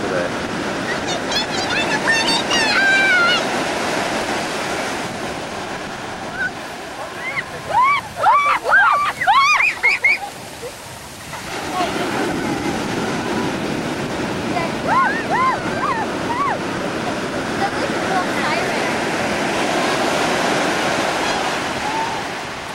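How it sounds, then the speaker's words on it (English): Ocean waves break in a steady, broad wash of surf with rising and falling swells. Faint voice-like and bird-like calls drift over it. "The waves are absolutely beautiful today."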